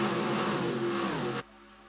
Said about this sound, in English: And just listen to the cars.